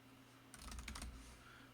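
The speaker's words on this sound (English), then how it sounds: "Why isn't my keyboard working?" Keys clatter on a computer keyboard in a quick burst of several rapid taps lasting about half a second, set against a quiet room with low background hum and no voices.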